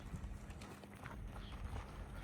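A Silesian mare's hooves clip-clop on the ground in a quick, uneven rhythm, faint and close-ish, with a little muffled background noise.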